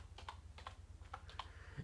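Quiet, steady keystrokes tap on a wireless keyboard used with an Amazon Fire TV, each click distinct and close, with a low hum underneath.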